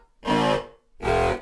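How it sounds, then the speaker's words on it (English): Two short, buzzy synthesized swells rise and fade with a distorted, reverberant tone, separated by a brief gap of silence; a noisy whoosh made in the Massive synth. "a reverberated, weird engine buzzy sort of sound"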